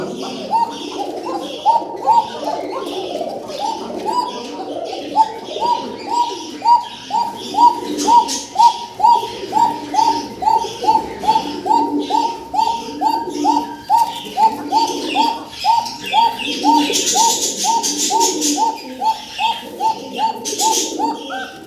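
A male pigeon coos in a repeated rhythmic series of soft, throaty calls, close by and steady for the whole stretch, with faint background noise and occasional brief chatter.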